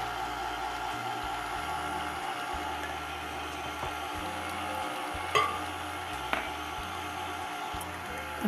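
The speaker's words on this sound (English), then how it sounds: "And we'll keep mixing." Cake batter of flour and milk being mixed, likely with an electric mixer, giving a steady whirring hum throughout with a couple of brief knocks, close and even.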